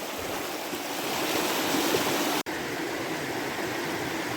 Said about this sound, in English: It's a beautiful little creek.